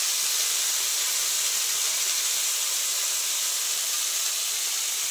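A small batch of thalkur greens fries in a large wok with a steady, even hiss of sizzling oil throughout, no one speaking.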